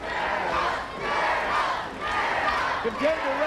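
An arena crowd cheering for the gladiator Turbo at an American Gladiators event, a roaring wash of voices that swells and dips in waves, with a few shouts rising near the end.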